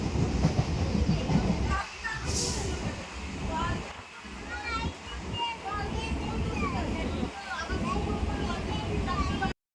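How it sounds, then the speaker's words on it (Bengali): A passenger train runs with a steady rumbling roar and faint rhythmic clatter, heard from inside a carriage and continuing throughout with a brief high squeal near the start. "তো আমরা কিন্তু ট্রেনে উঠে পড়েছি"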